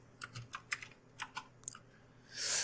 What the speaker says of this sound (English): So suppose I type htop.